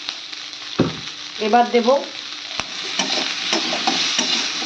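Dalia and masoor lentils tipped into a hot pan and stirred, with a soft sizzle under scraping spoon strokes and a few clicks, while a person speaks briefly near the start.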